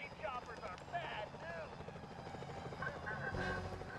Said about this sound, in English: Those security choppers are bad